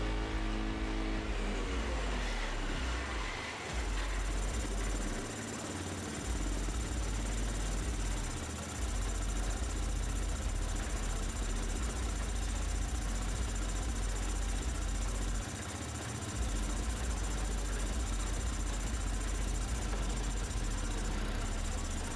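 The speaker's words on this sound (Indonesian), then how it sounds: "Tahan terus putaran tinggi mesin." An automatic fuel-injected motorcycle engine runs steadily at high revs, a continuous droning hum held for a long stretch with slight dips in pitch, close and alone.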